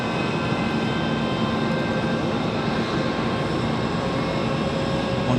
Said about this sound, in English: Oh, hey, that's an A321 today.